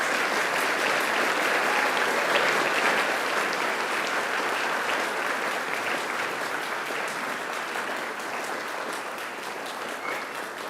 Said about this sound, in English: can I ask you to please give them an almighty round of applause?